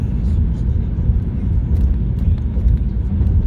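A car on the road, with a steady low rumble of engine and road noise throughout and no break.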